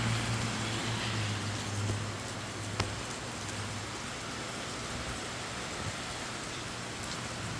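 Steady rain falls outdoors over a garden with tomato and pepper plants while the sun shines, a dense even hiss with occasional nearby drips and taps.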